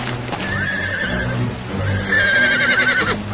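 A horse neighs twice in cold, cloudy weather, the second whinny louder and higher, over a busy backdrop of hoof clatter and a low steady drone.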